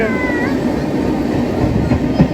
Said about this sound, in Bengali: দাঁড়াও ট্রেনটা চলে যাক কিছু শুনতে পাচ্ছ না তোমরা